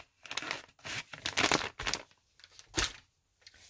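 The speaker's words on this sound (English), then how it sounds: "I grabbed a baby wipe" A baby wipe rubbed over inked surface on a plastic bag, giving close crinkly, rustling strokes in several uneven bursts with brief pauses between, no talking.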